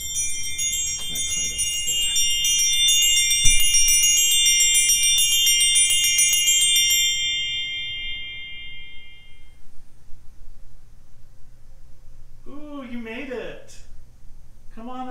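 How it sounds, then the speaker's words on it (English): A church organ's zimbelstern, a set of little bells, rings on its own in a rapid, bright, repeating tinkle for several seconds before stopping, after which someone talks nearby. "The zimbelstern is the set of little bells that plays. And when we turn it on, they start ringing all by themselves."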